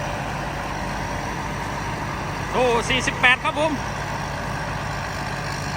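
A heavy diesel combine harvester engine rumbles and idles steadily throughout, with someone briefly speaking over it midway.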